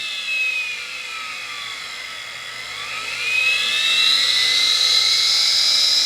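A turbo vacuum cleaner motor, fed 15 volts to the brushes, spins at about 7,000 RPM with a loud, close, high-pitched whine that rises in pitch and intensity midway and holds steady, alone without talk.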